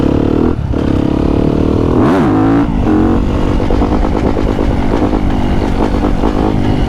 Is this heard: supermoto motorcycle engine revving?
yes